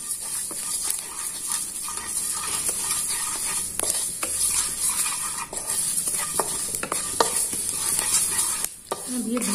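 Mango chutney ingredients are stirred and roasted in a pan, giving a steady close sizzle with repeated scraping strokes of a spoon throughout.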